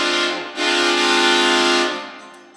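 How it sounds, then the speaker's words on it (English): A stadium train horn blares outside the stands at an Atlanta United soccer match, one loud sustained chord lasting about two seconds before fading, with no talking. "Looks like they brought the train horn from inside the bins to outside"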